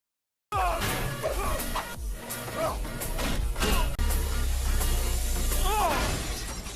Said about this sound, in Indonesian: Hingga Bagya terkejut mendengar pecahan kaca mobil di luar.